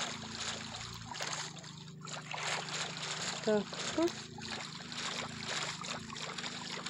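A boat glides across water in the Minecraft video game, a soft continuous swishing and paddling wash under a speaking voice, with a couple of brief louder splashes near the middle.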